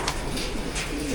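Pigeons cooing nearby, soft low throaty coos overlapping in a steady murmur against a noisy background.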